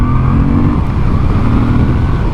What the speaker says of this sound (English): This thing, it's a V-twin. It's a 90-degree V-twin.